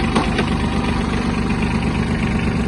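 Japanese Yanmar F-155 mini tractor with a diesel engine idling steadily just after starting, a constant low-pitched rumble with light mechanical vibration running evenly throughout with no talk.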